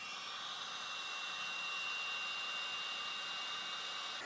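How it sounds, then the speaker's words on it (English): A heat gun melting clear embossing powder blows a steady, even whooshing roar of hot air, close and constant throughout with no talking. "And we're going to heat that up with our heat gun."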